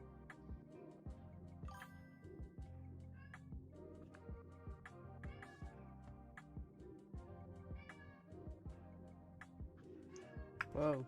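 A cat meows repeatedly, with several drawn-out, wailing calls spread across the stretch and a louder cry near the end, heard fairly close over a soft background hum with some speech.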